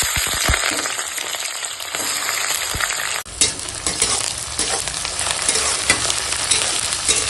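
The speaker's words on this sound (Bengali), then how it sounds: "পেঁয়াজটা এখন ভাজছি" Chopped onion and bay leaf sizzling in hot oil in a pan, a bright crackling fry broken by stirring scrapes, growing louder and busier after a sharp shift partway through.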